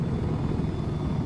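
Helicopter rotor and engine drone from the video game Battlefield 4 on the Caspian Border map, a steady low rumbling whir heard on its own at moderate level, without speech, over a short stretch.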